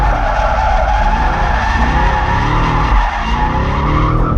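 A Camaro SS drifts in second gear, its tires squealing loudly and continuously as the engine roars close by.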